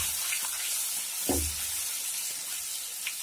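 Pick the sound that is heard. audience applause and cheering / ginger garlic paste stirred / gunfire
ginger garlic paste stirred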